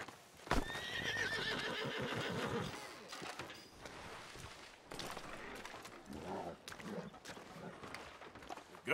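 Horse in the Red Dead Redemption 2 video game gives a sharp whinny near the start, followed by scattered clip-clop hoof steps and snorts against outdoor ambience.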